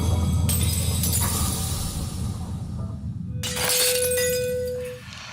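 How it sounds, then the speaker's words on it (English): A drinking glass, made to wobble by loud resonant sound, bursts and shatters, with a shower of bright fragments over a steady low drone, then a sustained ringing tone that cuts off near the end. "the glass breaking"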